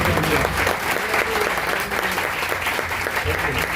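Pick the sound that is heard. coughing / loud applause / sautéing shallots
loud applause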